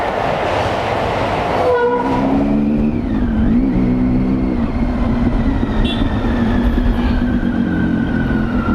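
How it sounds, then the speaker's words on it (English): A train rumbles past close by, with squealing wheels and a rising, bending tone over steady loud rail noise throughout. "Thank God the train is here."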